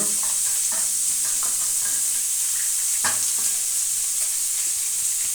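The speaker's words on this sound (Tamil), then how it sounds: "முட்டைக்கோஸ் வந்து மீடியம் ஃப்ளேம்லேயே வச்சுக்கோங்க வச்சுட்டு இது வதங்கட்டும்" Cabbage sautéing in a pan over a medium flame, a steady close sizzle with occasional soft scrapes and taps of a stirring spoon.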